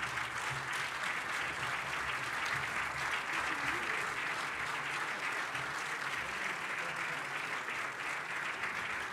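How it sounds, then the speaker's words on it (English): Steady, even applause from a large audience at the closing plenary of a business forum on intra-Africa trade in Kigali. The sound is a dense, continuous wash of many hands, faint and distant, without a break. "Please rise and acknowledge the applause from the crowd."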